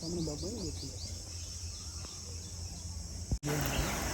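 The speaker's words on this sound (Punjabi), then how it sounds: "ਪੰਛੀਆਂ ਦੀਆਂ ਸੋਹਣੀਆਂ ਸੋਹਣੀਆਂ ਆਵਾਜ਼ਾਂ" Birds sing in the forest around Gurdwara Tapoban Sahib near Ludhiana, with a few quick chirps early on over a constant layer of insect buzzing, faint and steady.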